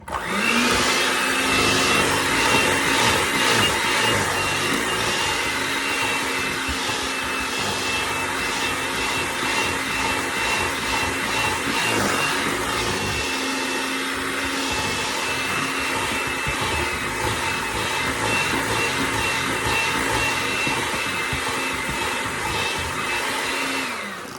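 Electric hand mixer beating a tablespoon of vanilla into fruit cake batter, a steady loud motor whir running continuously with slight pitch wobble as the beaters work through the bowl.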